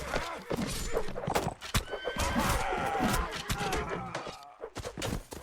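A horse neighs loudly in a chaotic video game battle, hooves clip-clopping amid dense clashing and thudding throughout, close and busy.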